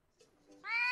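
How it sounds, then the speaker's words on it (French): A cartoon cat meows once in the video game A Day with Mochi, a short, clear, bright meow that rises in at the end of a quiet moment after faint background sound. "Un petit miaou pour voir?"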